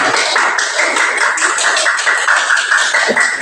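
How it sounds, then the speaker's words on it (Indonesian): Classroom applause for a student named Novi, a dense, steady patter of many hands clapping together at close range for a few seconds with no talking over it. "Tepuk tangan buat Novi"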